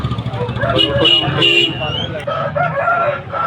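Rooster crowing amid a busy Vijayawada rooster market, with people talking nearby; the crow is moderately loud and mixes with other clucks and market chatter.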